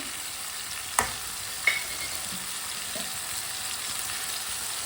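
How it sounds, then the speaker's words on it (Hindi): Half a kilo of finely chopped tomatoes and four finely chopped green chillies frying over high heat, a steady close sizzle with two sharp clatters early on and no talk. "आधा किलो बारीक कटे हुए टमाटर डालेंगे। 4 सब्ज मिर्च बारीक कटी हुई।"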